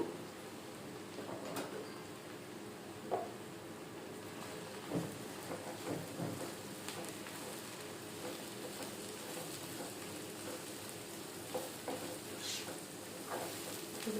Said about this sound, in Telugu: బ్రౌన్ కలర్ వచ్చే వరకు వేయించుకుందాము ఇది బాగా వేగనివ్వాలి